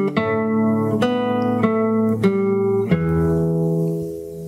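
A fingerstyle acoustic guitar phrase: five plucked notes and chords ring out one after another at a steady pace, close and clear, the last one left to decay.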